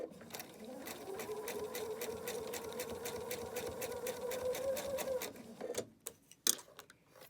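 A sewing machine stitches a seam on a Halloween quilt project box, a quick, even mechanical clatter with a humming motor that runs for about five seconds, then stops. A few faint clicks follow.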